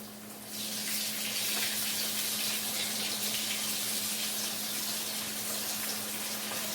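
Steady sizzling of pork chops frying in hot oil, a constant crackling hiss with a low hum underneath. No talking.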